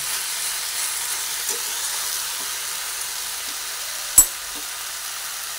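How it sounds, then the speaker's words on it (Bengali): Pumpkin pieces sizzle softly in a pan while being stirred, a steady low frying hiss with one sharp knock of the spoon against the pan partway through. "ভালোভাবে নাড়িয়ে চাড়িয়ে নিচ্ছি।"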